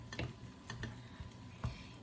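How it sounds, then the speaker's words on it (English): Melted chocolate stirred in a double boiler: soft, quiet scrapes and light taps of the utensil against the bowl, repeating irregularly over a faint background. "So it's best that you constantly stir the chocolate inside the double boiler here."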